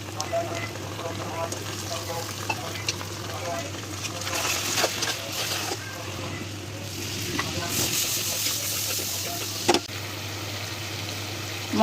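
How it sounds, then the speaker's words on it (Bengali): Chopped onions and spices fry in oil for a goat-head and chana dal curry, a steady sizzle broken by scraping stirs and occasional clinks of a spoon against the pan. "পেঁয়াজটা ভালো করে নাড়াচাড়া করে আমি এর মধ্যে সব মশলাগুলো দিয়ে দিব, দিয়ে ভালো করে কষায় নেব।"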